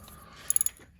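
A hand ratchet clicks four times in quick succession, close and crisp, while a Dodge Challenger's starter bolts are being loosened under the car; the clicks sit over faint background noise.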